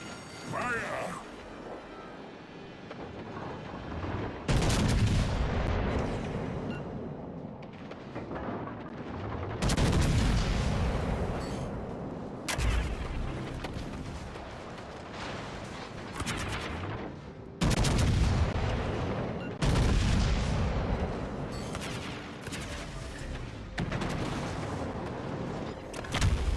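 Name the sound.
ship guns firing shells in World of Warships: Legends video game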